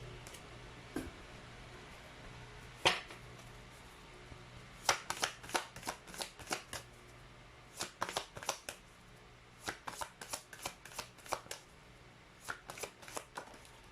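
Chinese fortune cards are shuffled by hand in a quiet room, giving a series of soft, crisp riffling flutters that come in quick clusters, close and fairly faint.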